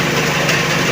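Single-phase AC capacitor motor spinning at full speed, a steady, loud, unbroken hum and whir with no change over a short stretch.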